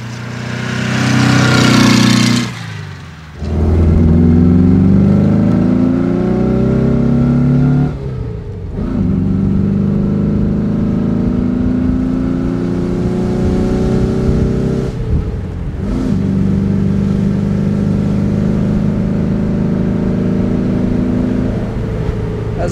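A Porsche 356 B T6 Cabrio (1963) with a tuned 2-litre engine of about 160 hp revs hard and accelerates, climbing in pitch through each gear, with brief drops at the shifts, loud and close throughout.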